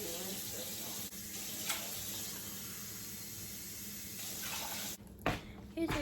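Kitchen tap water runs steadily into a sink to rinse baby greens for a veggie soup, a constant close hiss and splash that breaks into sharper splashing near the end.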